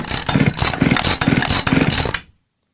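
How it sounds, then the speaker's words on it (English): A starter rope is pulled repeatedly on a two-stroke engine with a compression tester fitted, so the engine only turns over: a loud, close, rhythmic series of rapid cranking strokes that stops abruptly. "now I can go ahead and pull on the starter rope and see what our compression reads"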